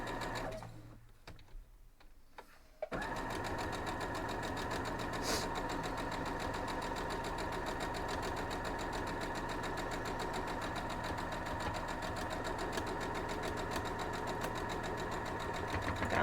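After a few quiet seconds with faint handling, a sewing machine starts and runs steadily, a close continuous rhythmic whir and stitch chatter while a Christmas centerpiece basket is sewn.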